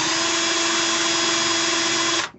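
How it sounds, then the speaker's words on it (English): A drill motor spinning an RCBS 3-way cutter head as it trims a .223 brass case, a loud, steady high whine held for about two seconds before cutting off abruptly. "A few seconds with the drill motor,"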